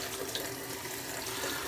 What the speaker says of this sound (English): So we'll get the water turned on.